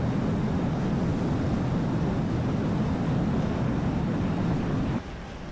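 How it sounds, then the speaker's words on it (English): Jet engine noise from a flight combat video game, a loud, dense, continuous roar that holds steady for about five seconds and then drops abruptly to a lower level, with no talking. "Do you like the jet sounds this loud and the music being less loud"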